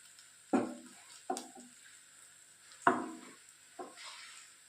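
Banana sweet balls frying in oil on a low flame, turned one by one with a spoon; four sharp scraping turns stand out over a faint, quiet sizzle.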